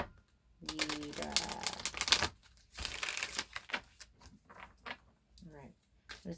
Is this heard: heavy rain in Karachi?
no